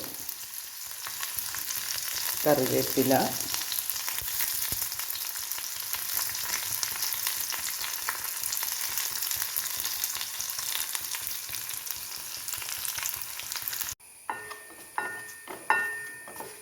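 Hot oil crackles and sputters steadily as mustard seeds splutter with onion, ginger and garlic, with a short burst of louder frying partway through and sharper pops near the end.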